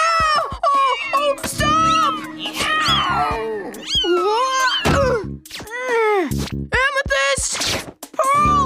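Cartoon cat meowing in the animated series Steven Universe, several close, loud, rising and wailing meows in quick succession over a busy soundtrack with thumps and other sounds.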